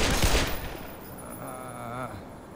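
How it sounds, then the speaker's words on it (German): Gunfire from the video game Black Mesa: a loud, sharp burst of shots at the start that fades into a lingering ringing tail, with a rising mechanical whine later on. "Scheinbar brauchen die doch zwei Schüsse gerade."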